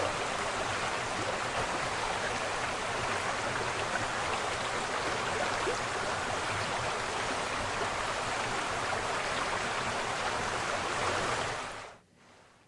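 Dense, roaring rush of falling water from Dabhosa waterfall in Jawhar, Palghar district, Maharashtra, during monsoon rains, loud and unbroken, cutting off abruptly near the end.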